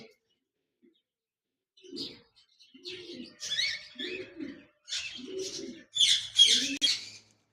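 A pair of caged lutino red-eye cockatiels gives a series of short, repeated chirping calls that come in uneven bursts and grow busier toward the end, close and clear with no talk.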